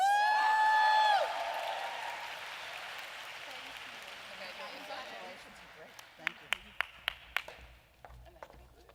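Crowd at an advertising awards ceremony applauding, a dense wash of clapping and cheering that swells after a brief tone at the start, then fades with a few sharp louder claps near the end.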